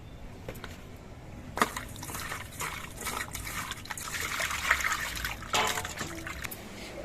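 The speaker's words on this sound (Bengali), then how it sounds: "এবার নুন মাখিয়ে নিয়ে মাছটা ধুয়ে নেবো" Fish being washed with salt and water makes close splashing, trickling and dribbling sounds with a few sharper sloshes, intermittent and moderately loud, with no voices.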